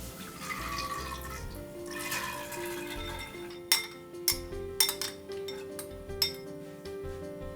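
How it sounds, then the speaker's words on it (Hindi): Soaked chana dal tipped into a pressure cooker for dhaba-style dal tadka, heard as a run of soft rattling and clinking, then several sharp metallic clinks from a spoon and utensil against the cooker, close and fairly quiet. "अब कुकर में डाल रही हूँ ये मैं चने की दाल जो हमने भिगो के रखी थी।"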